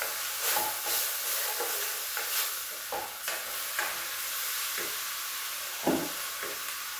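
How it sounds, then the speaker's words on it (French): Food is stirred in a sizzling pan, a steady frying hiss broken by repeated scrapes and soft knocks of the utensil at uneven intervals, close and with no voices. "Je vais continuer à mélanger."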